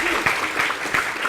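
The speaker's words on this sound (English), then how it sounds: "let's give another round of applause to our speaker." An audience at a GoWayFest 2018 Golang conference talk in Minsk claps for the speaker, a brief burst of steady, fairly close applause from the crowd.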